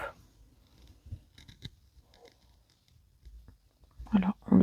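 Scissors snip crochet yarn on a lilac top-down sweater, giving a few faint close clicks and cuts among soft handling noises, with a voice speaking briefly at the end.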